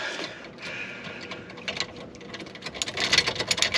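Ratcheting clicks from a long reach triple square socket loosening the front wheel bearing bolts on an MK7 Golf/GTI/Alltrack, close and fairly loud, with quick bursts that speed up toward the end and no talk.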